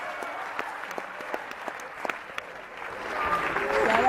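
An audience at a Hindi poetry recital (kavi sammelan) claps, scattered at first, then swelling into fuller, louder applause near the end.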